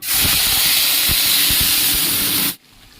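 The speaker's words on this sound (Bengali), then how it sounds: "ভাজার তেলটাতেই আমি মশলাগুলো কষবো।" A paste of ginger, garlic, onion, green chili and tomato is added to hot frying oil. It gives a loud, steady sizzle close up that cuts off abruptly near the end.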